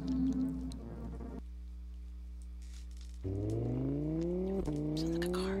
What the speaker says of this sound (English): Sound like a car.